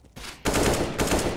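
CS:GO gunfire, a short burst of loud rapid shots in two clusters, close and sharp with a brief gap between, no voices over it.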